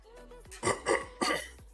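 A person clears their throat a few times in quick, rough bursts, close and fairly loud, with a brief vocal sound just before.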